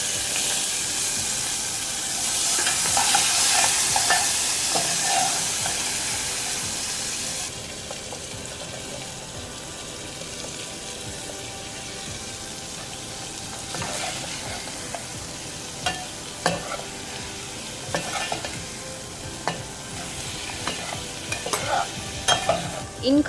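Spices tempering in a teaspoon of ghee with hing, cumin, chili and tomato for a Janmashtami offering: a steady, quiet sizzle with faint stirring and occasional clinks of the utensil against the pan, heard alone.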